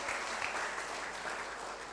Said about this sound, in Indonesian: Kasih tepuk tangan sekali lagi buat Om Samuel.